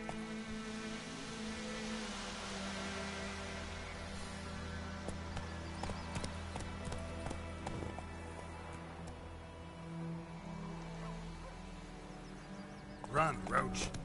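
Hooves of Roach, the horse in The Witcher 3: Wild Hunt, pounding in a steady gallop over game music and ambience, moderately loud and continuous, with a brief louder burst near the end.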